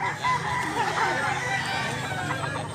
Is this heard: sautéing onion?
no